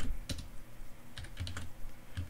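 Computer keyboard keys clatter in short uneven bursts during a parallel programming session, close and fairly quiet, with no talking.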